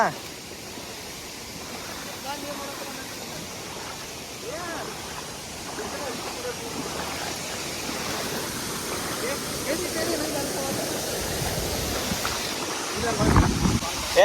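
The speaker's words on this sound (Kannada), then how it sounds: "ಇದ ಫಾಲ್ಸ. ಟುಷ್ಟು ಎರಡನೇ ಭಾಗ ವೇಟ್ ಮಾಡ್ಬೇಕು ನಾವು." A waterfall at Kemmangundi, Chikkamagalur rushes with a steady, broad roar that continues unbroken throughout, growing slightly louder toward the end.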